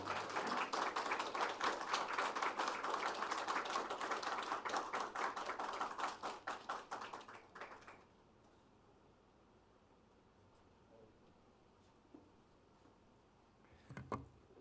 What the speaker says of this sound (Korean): 환영과 사랑의 마음으로 박수해 주시면 감사하겠습니다